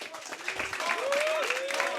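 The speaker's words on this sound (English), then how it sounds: "So definitely a round of applause for all four of them" Audience applause at the closing of a BSG Annual 2018 event venue, a steady wash of clapping from the crowd heard under a person speaking.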